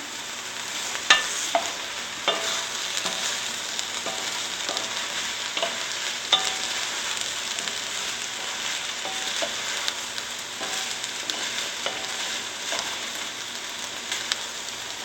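Vegetables with caramelized onions, seasoned with salt and pepper, fry in a pan under a steady hiss while a utensil stirs and scrapes, leaving scattered sharp taps and clicks throughout, close and moderately loud.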